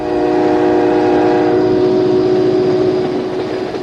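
Amtrak's Southwest Limited passenger train runs across the plains in a loud, steady, continuous rumble with a sustained tonal hum and no voices.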